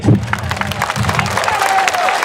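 An audience at an outdoor religious talk claps and cheers together, a dense burst of applause with crowd noise that holds steady for a couple of seconds.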